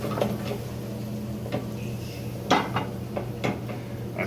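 A kitchen pan with garlic frying in oil is shaken, bringing scattered metallic knocks and clatters over a low steady hum, one louder clank standing out midway.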